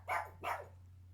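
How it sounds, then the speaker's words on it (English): A dog barks twice in quick succession somewhere in the background, two short, moderately loud woofs over a low steady electrical hum. "you're gonna have to pardon the dog barking in the background"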